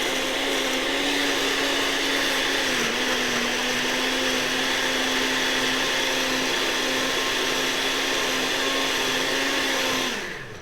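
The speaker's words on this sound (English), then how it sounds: "It's about bringing it all together in your blender." Blender running steadily while blending fruit and milk, a loud continuous motor whine with a slight dip in pitch partway through, then winding down and stopping at the end.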